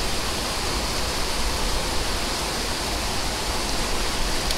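Steady roar of rushing water from a waterfall on a trout stream during a rainstorm, a dense broadband wash that stays loud and even throughout with no voices.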